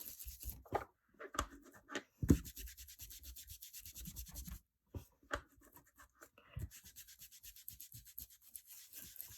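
Ink blending tool rubbing distress ink onto planner paper, giving close, soft scratchy swishes in repeated short strokes with brief pauses between passes.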